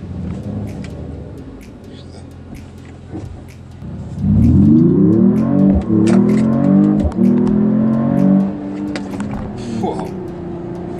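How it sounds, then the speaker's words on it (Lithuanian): A Mercedes-AMG E 53 Hybrid sedan, a five-metre car of over 2300 kg, accelerating hard: the engine note rises and climbs through gears loudly for several seconds, then settles back to a quieter cruise. "galite įsivaizduoti, koks įspūdingas šito automobilio pagreitis"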